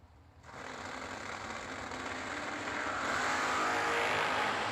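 A Camaro and a Mustang at a New Year Nationals drag race roar as one loud, steady engine blast that builds and holds over a wide, dense rumble.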